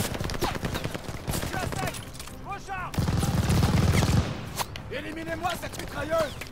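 Rapid machine gun bursts crackle in Call of Duty Vanguard on a World War II minefield and bunker assault, sharp repeated shots running under frequent French-speaking voices, with a heavier stretch of dense fire midway.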